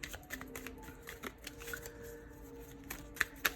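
Animal Spirits Oracle cards being shuffled and drawn, soft riffling and flicking of card stock in quick close bursts, quiet and without talk.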